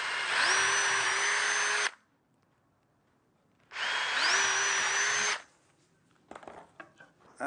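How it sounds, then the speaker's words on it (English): A power drill bores holes in wood for a saddle stand. Two loud whirring runs rise in pitch as the motor spins up, separated by a pause, then a few faint rubbing clicks. "what I'm going to do is drill a couple of holes here"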